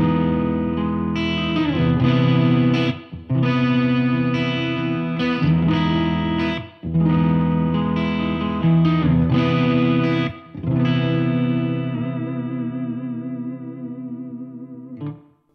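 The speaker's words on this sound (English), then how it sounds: "And they're both spring reverbs." Electric guitar chords ring out through a spring reverb on a Helix LT or Headrush multi-effects unit, strummed loudly in several phrases before a final chord decays with a wobbling tail.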